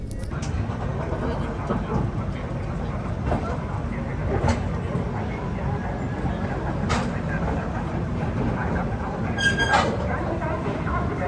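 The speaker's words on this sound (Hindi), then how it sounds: "अब जो हमारी ट्रेन है ना वो पहुंच चुकी है नागपुर जंक्शन रेलवे स्टेशन" An AC Duronto Express running Howrah to Mumbai pulls into Nagpur Junction with a steady, loud rumble of wheels and carriages, scattered clicks and clanks, and a murmur of voices in the background.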